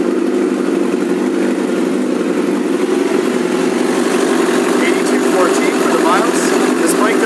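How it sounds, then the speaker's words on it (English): A 2006 Suzuki GSX-R1000 motorcycle engine idles steadily and loudly at close range, with a constant low drone that holds even throughout. "I'm going to set down the camera while I pull in the clutch to fire this bike up"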